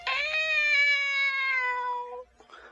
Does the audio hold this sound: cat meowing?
yes